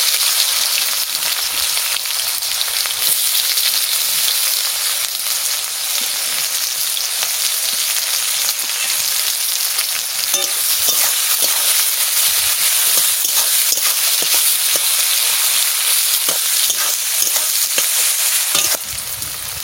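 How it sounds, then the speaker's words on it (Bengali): Onions frying in hot oil in a pan give a steady, close, bright sizzle with a crackling hiss that stays loud and unbroken for the whole stretch, with no talking. "তেল গরম হয়ে গেছে, আমি পেঁয়াজ দিয়ে দিচ্ছি।"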